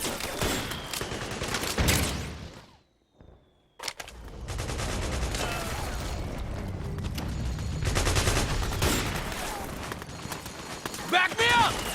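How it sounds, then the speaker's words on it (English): Gunfire from a battle in the Metal Gear Solid 4 video game, with bursts of shots and loud clattering combat noise across most of the stretch, a brief near-silent gap early on, and voices shouting through the action. "Shots fired!"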